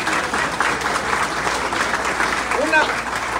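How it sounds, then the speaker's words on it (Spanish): Church congregation applauding steadily throughout, a dense continuous wash of clapping from an audience, with some voices mixed in beneath it. "¡Un aplauso!"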